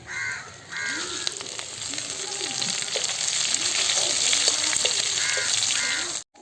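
Dried red chillies and cinnamon fry in sesame oil in a pan for a chicken kaatu varuval. A loud, steady sizzle carries on throughout, with faint crow caws in the background.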